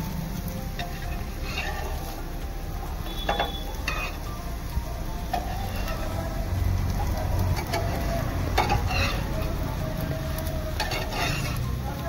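Upvas-style sweet potato cutlets fry in a hot pan with a steady sizzle, while a spatula scrapes and taps against the pan now and then as the cutlets are turned over, with no talking.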